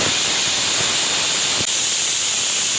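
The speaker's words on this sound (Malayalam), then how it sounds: "കുക്കറിൻ്റെ പ്രഷറൊക്കെ പോട്ടെ." A kitchen pressure cooker, used to cook lentils with salt and turmeric, vents its steam in a loud, steady hiss that runs unbroken for nearly three seconds before cutting off abruptly.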